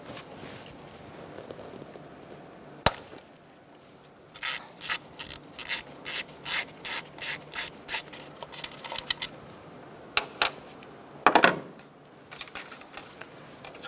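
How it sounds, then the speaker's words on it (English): An 8mm socket wrench ratchets off an ignition coil nut on a 2004-2009 Mazda 3 2.3L four-cylinder, a sharp clack followed by a steady run of about a dozen rapid ratcheting bursts, then a few louder metallic clicks, close up. "Using an 8mm socket, we're going to take off this nut."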